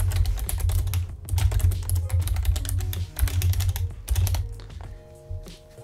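Steady, rapid keystrokes on a computer keyboard while code is typed, close and continuous with brief pauses between bursts of keys.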